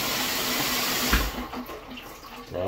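Water spraying steadily from a Hydrojet rotating shower head, a continuous close hiss of jets with a brief splash near the middle before the flow thins and sputters.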